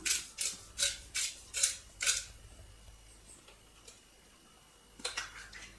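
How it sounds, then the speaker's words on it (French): Pepper mill grinding pepper for a scallop and clementine tartare, heard as five or six close, rhythmic crunching twists followed by a pause and a few fainter turns. "Un peu de poivre du moulin."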